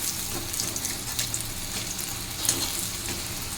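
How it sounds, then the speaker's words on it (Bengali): Eggplant slices and soya chunks fry in oil with a steady, close hiss and crackle, while faint stirring sounds come through underneath; no speech. "বেগুন ভাজা হয়ে গেলে সয়াবিনগুলো ভেজে নেব"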